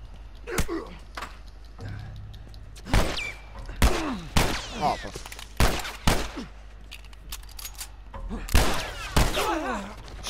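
Bursts of gunfire from The Last of Us, a handful of sharp, loud shots spaced irregularly across the stretch, with voices talking between and over them.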